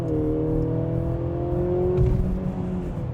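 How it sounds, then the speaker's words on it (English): A 2025 Mercedes-Benz GLC 350e plug-in hybrid SUV accelerates at full throttle, heard from inside as a steady rising engine drone with electric whine, continuous and fairly loud. "floor the accelerator as hard as you can"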